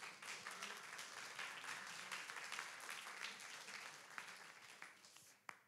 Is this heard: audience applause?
yes